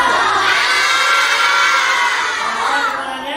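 A classroom of children shout together in one sustained, loud group yell, hands held to their throats, the noisy chorus filling the whole stretch and easing slightly at the end.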